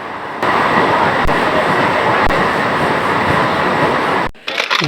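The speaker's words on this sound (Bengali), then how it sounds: "ফাঁকা হলেও ট্রেনটি খুব দ্রুত যাচ্ছে" A fast-moving local train roars along the rails with a loud, continuous rumble and faint rhythmic clicks, heard from inside the carriage, before the noise abruptly drops away at the end.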